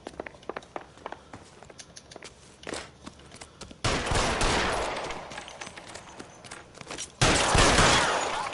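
Gunfire in the L.A. Noire video game: scattered single shots at first, then two dense, loud bursts of sustained fire, with footsteps between them.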